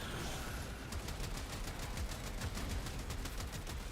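Rapid bursts of cannon-like gunfire from the Trombler weapon in a video game, a fast even rhythm of loud booming shots with no talk.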